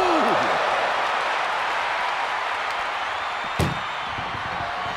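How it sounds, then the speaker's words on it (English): A sharp metallic slam of an ambulance door in a wrestling video game, one loud hit standing out over a steady roar of crowd noise and commentary. "Look at the struggle just to shut that first door."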